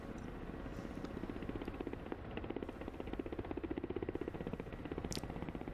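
Ka-50 coaxial helicopter in the DCS flight simulator, a continuous rhythmic rotor thump with a low engine drone, steady and close throughout.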